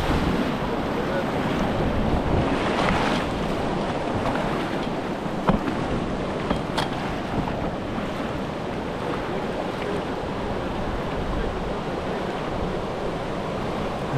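Water of a small river pouring into the Tara River in a Montenegro canyon, a steady loud rushing roar filling the whole stretch, with wind buffeting the microphone and a few brief knocks.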